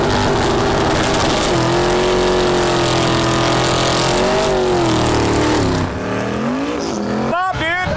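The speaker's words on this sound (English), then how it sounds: "It looks like an old like bracket car that would have been at the track 20 plus years ago" An old bracket drag race car runs loud and close, its engine holding a steady rumbling tone that rises and falls, then fades out while a voice speaks near the end.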